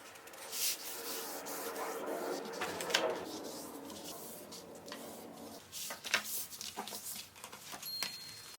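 Paper lap book cover being folded and handled at a table, giving soft close rubbing, creasing and sliding sounds with a few sharper crinkles and taps, steady and fairly quiet with no talk.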